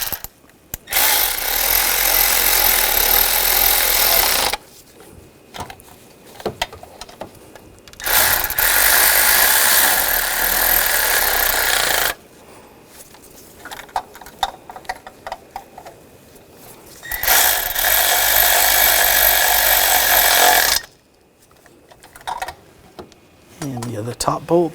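Bolts being tightened on the thermostat housing of a 2000-2006 BMW X5 3.0L inline-six, heard as three long bursts of loud, close power-tool whirring separated by quiet gaps with light mechanical clicks.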